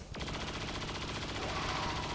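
Rapid burst of automatic gunfire in the squad tactics game XCOM 2, a dense run of close, loud shots with no talk over it.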